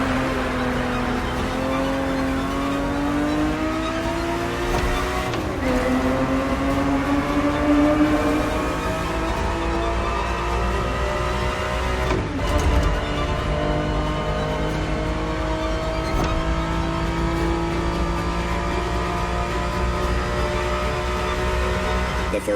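A Ferrari 365 GTB4 engine in The Crew Motorfest video game revs and pulls through rising gears in a steady loud drone. Brief shift breaks punctuate the smooth climbing pitch, with no speech.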